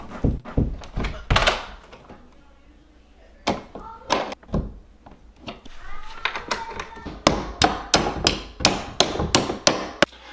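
Door hinges are bent in place with hard, close metallic thunks and hammer-like strikes, first in scattered bursts, then in a quick regular series toward the end.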